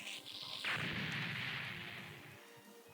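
Missile barrage attack in SD Gundam G Generation Genesis: a loud whooshing launch swells into a broad rushing blast that slowly fades over a few seconds, ending with a short sharp click, with no talk.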